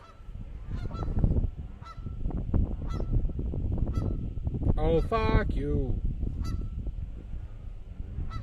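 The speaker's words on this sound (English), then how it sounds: "God, these geese are talking a lot of shit." Geese honking nearby in an outdoor setting, a burst of several loud nasal honks over wind noise and rustling, with someone talking.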